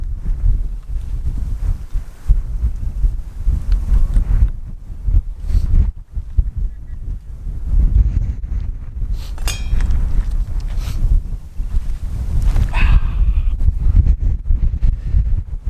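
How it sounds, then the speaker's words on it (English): Heavy wind buffets the microphone with loud, rumbling gusts throughout, with faint clinks and rustles underneath. "It's really windy outside."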